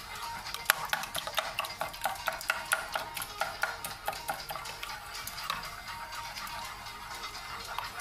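Eggs being stirred with chili flakes, a fast steady clicking of utensil against bowl that runs continuously and close by, with no voices.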